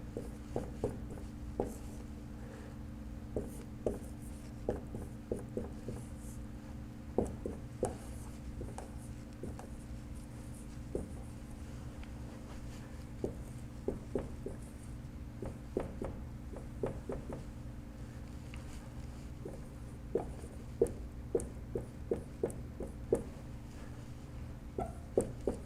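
Chalk or marker taps and scratches on a board during a quantum mechanics lecture, a scattered series of short, faint strokes over a steady low room hum, with no speech.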